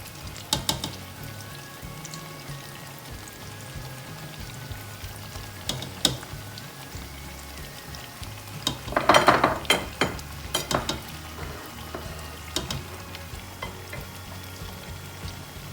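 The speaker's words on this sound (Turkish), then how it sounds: "Gördüğünüz gibi patlıcanlarımız kızarmaya başladı." Eggplant slices frying in oil in a pan, a steady soft sizzle with scattered crackles and pops and a few louder bursts of spattering, heard close up with no talking.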